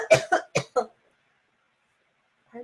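Four quick, sharp coughs in a row, close and fairly loud, then silence before a faint voice begins.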